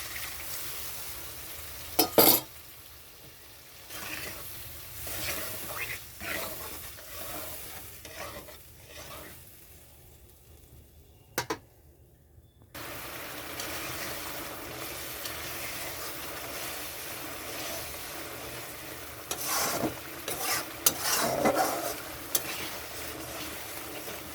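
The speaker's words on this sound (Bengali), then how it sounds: "কষা বাটাটা দেওয়ার পরে একটু কষাতে হবে" Fish curry masala with mustard paste being sautéed and stirred in a pan, a steady soft sizzle with scraping stirs and occasional clinks.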